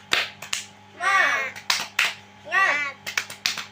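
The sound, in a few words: 'tepuk semangat' spirit clapping by a class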